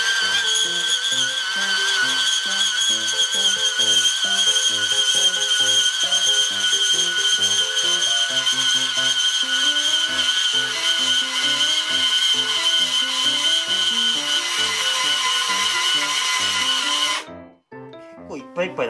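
A Makita PB180D cordless portable band saw cuts through stock, dropping under its own weight, with a loud, steady whining drone that runs continuously for about seventeen seconds before abruptly stopping.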